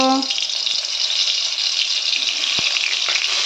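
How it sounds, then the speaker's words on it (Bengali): Pointed gourd (potol) pieces drop into hot white cooking oil in a kadai for niramish doi potol and set off a steady, loud broadband sizzle that runs unbroken to the end, after a brief voice at the very start. "তেলটা গরম হয়ে গেছে পটলগুলো ছেড়ে দেব"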